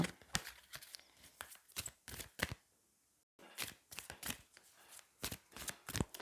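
Oracle cards are shuffled and drawn by hand in a quiet room, a close run of crisp riffling slaps and flicks with a short pause midway and no talking.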